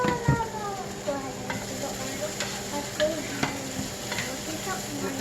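Ground chicken with carrots and onions sizzles steadily in a hot pan, with occasional scrapes and clinks of stirring, close and constant.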